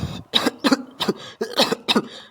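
Cartoon character in a comedic Sundanese dubbed animation coughs in a rapid series of about six harsh, loud hacking bursts with brief gaps, up close and with no other talk.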